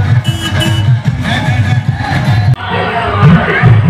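A large festive crowd fills the streets during a Ram temple celebration, with a loud, dense hubbub of many voices, cheering and shouting close by, and traffic noise mixed in throughout.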